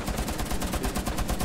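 Rapid automatic gunfire in Rainbow Six Siege, a fast, evenly spaced burst of sharp shots firing continuously at moderate loudness.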